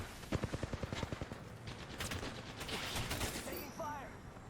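Rapid gunfire in a shooter video game, a quick volley of sharp shots followed by continuous rattling fire and game effects, loud and dense throughout.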